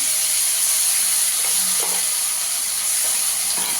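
A ground spice paste of onion, ginger, garlic, tomato and green chilli fries in hot oil with cinnamon, giving a steady loud sizzling hiss with a few faint stirring clicks and no talking.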